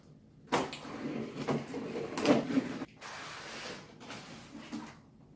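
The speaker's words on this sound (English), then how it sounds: "So let's get this box open." Tape is ripped and flaps are pulled open on a taped cardboard box holding a hedge trimmer: several loud, close tearing and rustling bursts with pauses between them.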